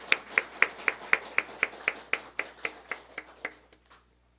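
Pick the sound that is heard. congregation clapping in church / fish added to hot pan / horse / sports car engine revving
congregation clapping in church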